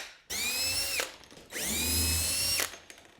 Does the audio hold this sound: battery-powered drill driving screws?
yes